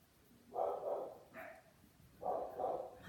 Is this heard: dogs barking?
yes